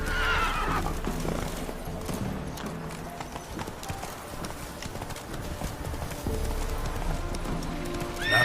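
The horse Roach gallops in The Witcher 3, its hooves a rapid rhythmic clip-clop under a loud game soundtrack, with a neigh and speech breaking in near the start and end.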